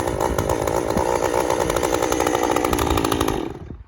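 Chainsaw running steadily close by, chain spinning at a high buzzing pitch for several seconds before cutting off abruptly at the end.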